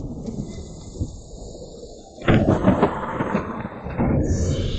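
Thunder in a dramatic scene: a low rumbling bed breaks into a loud, sustained crack and roll partway through, continuing heavily to the end with no speech.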